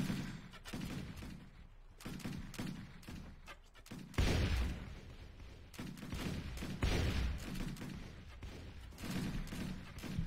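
Heavy gun firing in Warsword Conquest, several loud booming shots with strong thumps at irregular intervals among clattering battle noise, no voices heard.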